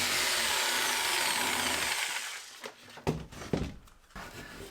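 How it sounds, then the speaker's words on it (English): A jigsaw cutting plasterboard during a farmhouse renovation, a loud buzzing cut for about two seconds that stops, followed by scraping and clunking handling noises. "Got my goggles, got my jigsaw, made my lines."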